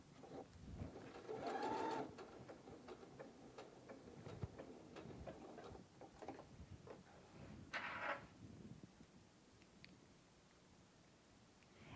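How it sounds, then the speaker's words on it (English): A home sewing machine stitches a button onto fabric in short rapid bursts of mechanical ticking and whirring, with pauses and small clicks between runs, close and fairly quiet. "that's how easy it is to stitch a button on with your own sewing machine"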